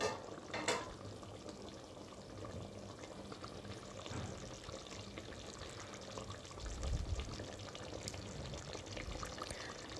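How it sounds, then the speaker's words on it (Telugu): Mutton dum biryani simmers in a pot, a soft continuous bubbling and hissing at low level with an occasional louder burble, close and steady, without speech. "చూడండి ఇలా ఉడుకుతుంది కదా."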